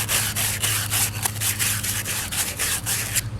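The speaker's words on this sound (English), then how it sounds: "now I need to sand up the ends a bit. Take your 220 sandpaper." Folded 220-grit sandpaper rubs the cut ends of wood to smooth off burrs, quick rhythmic back-and-forth scratchy strokes, close and steady, with no speech.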